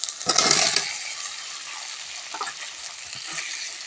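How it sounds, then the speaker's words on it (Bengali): Pre-fried potatoes tossed into a spice masala for aloo dum produce a close, bright sizzle with a sharp burst at the start, then a steady frying hiss broken by occasional stirring scrapes. "ভেজে রাখা আলু মশলা কষানোর মধ্যে দিয়ে দেবো"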